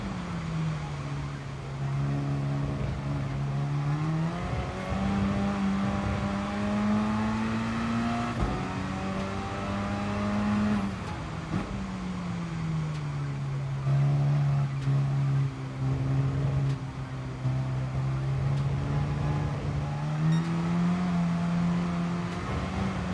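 Simulated race car engine in GT Sport, an Alfa Romeo 4C driven on a wet track, droning steadily with rising and falling revs through gear changes as the car power-slides, loud and continuous with no talk.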